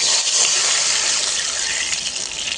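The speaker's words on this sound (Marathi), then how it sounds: "आता तूप छान गरम झाल्यानंतर याच्यामध्ये तुपामध्ये आपल्याला 1 कप पाणी घालून घ्यायचं." Water poured from a cup into hot ghee in a pan makes a loud rushing, bubbling gush that slowly eases off.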